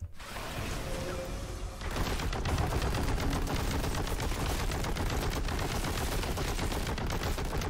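Heavy bolter fire in the video game Warhammer 40,000 Boltgun: a loud, sustained stream of rapid shots that grows heavier after a couple of seconds and rattles on without pause.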